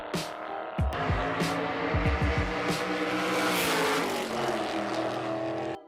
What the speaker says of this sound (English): is a Fiat 500, with a V12 engine from Lamborghini